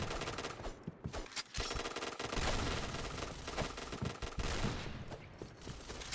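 Video game gunfire in a Thai shooter session, dense and continuous with rapid overlapping shots and bursts filling the whole stretch, loud and close with no talking.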